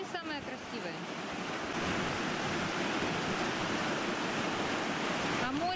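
Rough waves roll onto the Azov Sea shore in a continuous loud wash of surf, with wind noise on the microphone and no speech.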